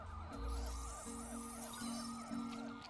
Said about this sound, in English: There's just sirens going Mercury. off all over the place.